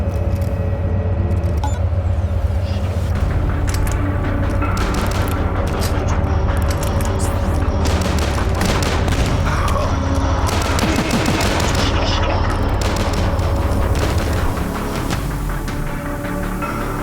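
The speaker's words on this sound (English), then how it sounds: "My mortar shots, because I have a bunch of ammo" Mortar shots fired and exploding in DUSK, a loud, continuous barrage of booming blasts and rattling gunfire layered over a steady droning game soundtrack, with faint talk now and then.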